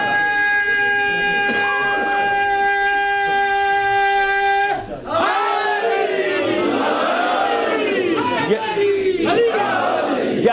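A crowd at a Muharram majlis chants religious slogans: one sustained, droning lead voice holds for several seconds, then a loud, dense mass of voices answers in rising and falling waves.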